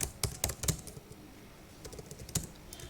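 Code is typed on a computer keyboard in quick bursts of crisp, close key clicks, separated by a short pause, with no speech.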